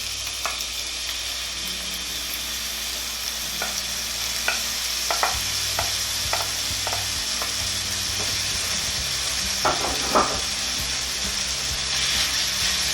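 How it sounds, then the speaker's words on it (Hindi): Ginger fries with softened onions for adrak ka salan: a constant sizzle runs throughout while a spatula scrapes and taps the pan in a loose, irregular rhythm, close by and with no talking. "हल्का सा सॉफ्ट कर लेंगे और फ्राई कर लेंगे ताकि उसका कच्चापन ख़त्म हो जाए"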